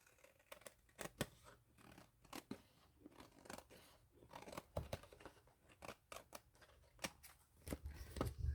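Scissors snip through paper for a collage in an altered book, a quiet run of crisp, irregular cuts near at hand with soft paper rustling between them.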